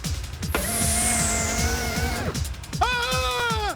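A driverless car in an Indian film scene races along with a steady whining engine and squealing tires, a continuous roar underneath and a sharp rising screech near the end.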